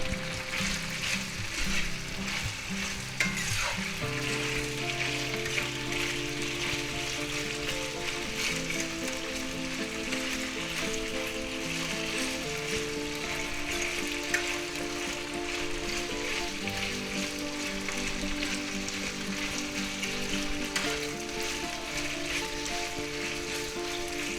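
Pork pieces for a sweet and sour stir fry frying in a pan, a continuous dense sizzle like light rain, close and even throughout with occasional faint clinks, no talking.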